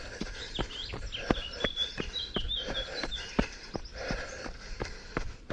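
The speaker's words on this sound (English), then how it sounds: "I'm always conscious you can hear all the birds," Birds chirp and sing intermittently beside the Thames Path, heard close by over the steady rhythmic thud of a runner's footsteps on the trail.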